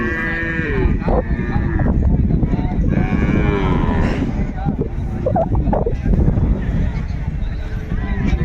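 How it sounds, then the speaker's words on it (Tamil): Cattle lowing repeatedly at a busy outdoor livestock market in Devakottai, loud and near, with overlapping moos among crowd murmur and voices. "அந்த சைடில் ஒரு நல்ல ஒரு காளை ஒன்று இருக்குது, அந்த மரத்தில் கட்டியிருக்கு பாருங்க."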